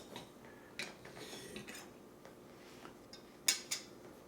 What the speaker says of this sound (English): so I'm going to use a knife and fork.